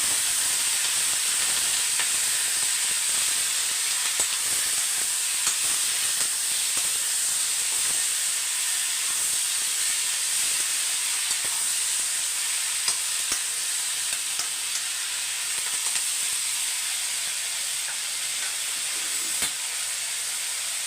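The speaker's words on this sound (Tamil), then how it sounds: "ஒரு மூணு தக்காளி பழம் தக்காளி நல்லா வதங்கணும்" Three tomatoes sauté in a pan with tamarind and salt for a home-cooked meal, giving a steady, close, bright sizzle and hiss that runs unbroken throughout, with faint stirring ticks and no talking.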